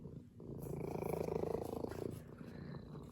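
A cat purring close up, a steady low rumbling purr that swells and fades over a few seconds.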